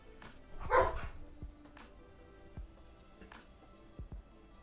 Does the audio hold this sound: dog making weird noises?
yes